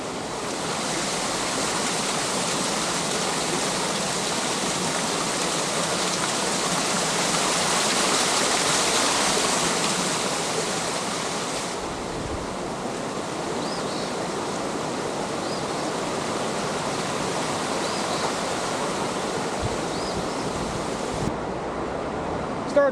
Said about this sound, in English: it crosses a small little creek